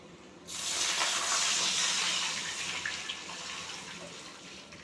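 Water pours steadily into a cooking pot of rice for pulao, already spiced with cardamom, bay leaves and cloves, a continuous close rushing hiss that starts abruptly and runs throughout.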